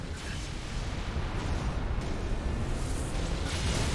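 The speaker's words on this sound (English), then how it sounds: "Take them both out with the Mac Cannon" A MAC cannon fires in Halo: Reach, a sustained, heavy rumbling blast that fills the whole span with dense low roar and no break.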